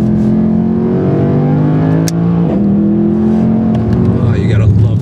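A Mercedes C 63 AMG Black Series coupé drives hard around the Laguna Seca track, its engine a loud, steady droning roar that shifts pitch through gear changes, heard from inside with someone talking over it.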